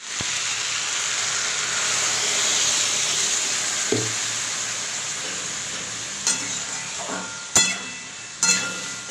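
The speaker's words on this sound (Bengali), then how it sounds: "তো এবার একটু জল দিয়ে ঢাকা দিয়ে দেবো" Spinach cooking in a hot pan gives a steady hiss and sizzle as water is added, with a few sharp clinks of a utensil or lid near the end.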